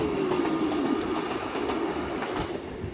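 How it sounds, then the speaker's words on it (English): A train passes close by, a steady loud rumble with clattering wheels on the rails and a high squealing tone that falls slowly, continuous throughout with no voices. "That's a train."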